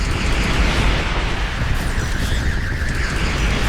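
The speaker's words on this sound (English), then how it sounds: "Enemy station warping in. Havoc launchers just decimating it." Havoc launchers blow apart an enemy station in the space game Starcom: Unknown Space, a loud, continuous rumble of overlapping explosions and bursts with no let-up.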